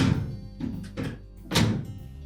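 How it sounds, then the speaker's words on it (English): A Whirlpool dryer door shut onto a newly replaced door strike, giving a few dull, close thunks as it is opened and closed. "Check the operation of the door."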